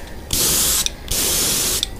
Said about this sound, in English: I want to give this just a good coat, especially along the darker areas